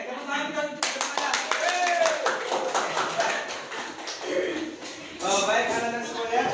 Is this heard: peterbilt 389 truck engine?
no